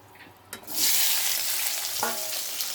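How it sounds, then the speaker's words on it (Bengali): Chopped onion dropped into hot oil with whole cardamom, cloves, cinnamon, dried red chilli and bay leaf in a pan over a wood fire, bursting into a loud, steady sizzle after a brief clatter, with a utensil knock partway through. "এবারে দিয়ে দেবো পেঁয়াজ কুচি"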